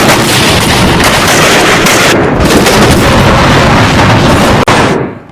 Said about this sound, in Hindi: ये बम की गोलों की आवाज पाकिस्तान तक सुनाई दे रही है